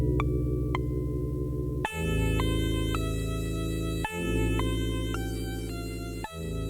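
Bright, buzzy synthesized tones from a YM3812 FM sound chip play a simple melody over a steady droning bass, with crisp electronic timbres typical of an old FM sound chip.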